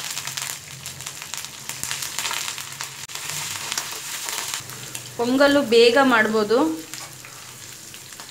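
A tempering of cashews, hing, ginger, green chilli and curry leaves sizzles and crackles steadily in hot oil for khara pongal, with a brief spoken remark over the frying near the end.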